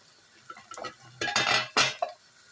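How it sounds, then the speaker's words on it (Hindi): Boiled lentils for dal chawal scraped and stirred in a metal pot, a few close clinks and scrapes of a spoon against the pan in short bursts, no talking. "अब हम हिला लेंगे दाल को।"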